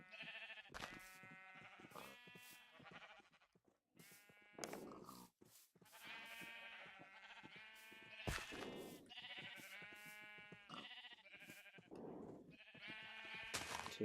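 Repeated sheep bleats from Minecraft livestock, several overlapping calls in quick succession, loud and close, with short pauses between bursts and no talking.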